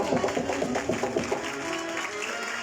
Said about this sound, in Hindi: दोनों हाथों को उठाकर लहराते हुए मेरे यीशु के लिए जोरदार तालियां बजाइएगा